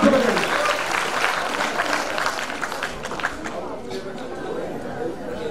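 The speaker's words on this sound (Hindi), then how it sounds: "तालियां जोरों से बजाइए मैम के लिए, तालियां जोरों से बजाइए।" Applause from the audience at a quiz show held for a Dev Anand birthday celebration, clapping mixed with crowd chatter and voices, strongest at first and thinning out over several seconds.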